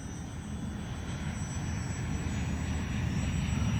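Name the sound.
X-Fly P-68 RC model plane flying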